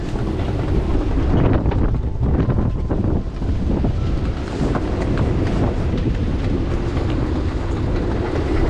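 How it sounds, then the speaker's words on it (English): Strong wind roars and buffets continuously, a heavy, dense rush with gusty swells and microphone buffeting, loud and close throughout with no voices. "Listen to the wind."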